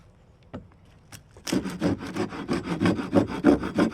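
A few faint knocks, then steady rhythmic sawing strokes through wood with an 1874 entrenching bayonet's saw-back blade, close and loud, with a regular back-and-forth pulse.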